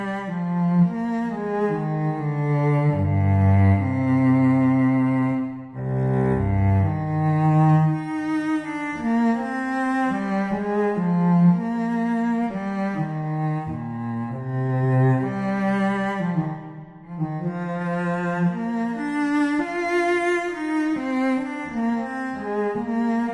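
A sampled cello playing a legato patch from a SonuScore library, one slow singing line with smoothly connected notes and rich harmonics, alone and continuous with brief dips between phrases.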